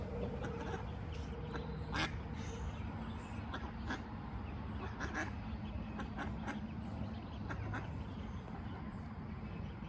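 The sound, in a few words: little duckling calling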